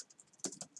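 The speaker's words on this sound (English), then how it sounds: "press P on the keyboard" A computer keyboard key pressed during Photoshop work, with a series of crisp, close clicks in quick succession and one louder press near the middle. No voices.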